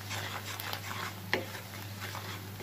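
Onions fry in a pan for a Bangladeshi potato chicken curry and are stirred now and then: a soft steady sizzle with light scraping and one brief knock.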